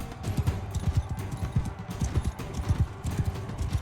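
Rapid hoofbeats of a galloping horse in Mount & Blade II: Bannerlord drum in a steady, driving rhythm, close and continuous throughout.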